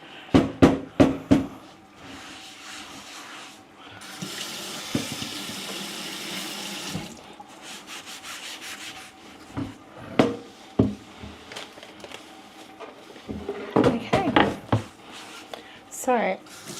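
Water runs steadily from a kitchen tap while a cutting board is washed at the sink, with sharp clatters and knocks of the board and utensils before and after the gush; a voice talks in places.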